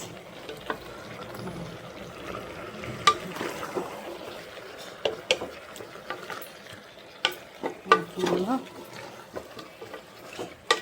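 A biryani pot sizzles and bubbles softly while something is stirred, with sharp scattered clicks and spatters over a low steady simmer.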